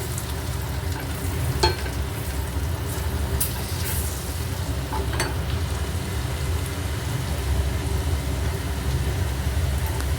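Chilli chicken masala stir-frying in a pan with Kashmiri chili powder, a loud, constant crackling sizzle with a few soft clinks of stirring.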